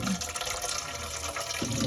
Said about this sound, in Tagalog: Dito tayo kukuha ng tubig